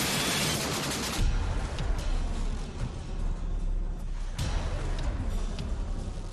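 A multi-barrel rocket system fires during a Chinese military exercise: a dense, loud barrage of rapid launches with roaring, rumbling bursts and sharp onsets throughout, no talk.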